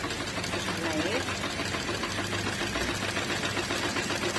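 A sewing machine stitches a neckline, its rapid even mechanical whir and clatter running continuously and close throughout, with a voice speaking underneath.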